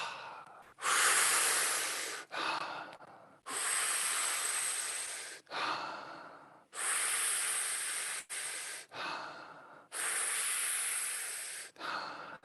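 Deep breaths during a breathwork exercise, with long loud airy rushes alternating with short gaps, several full breath cycles close to the microphone with no talking.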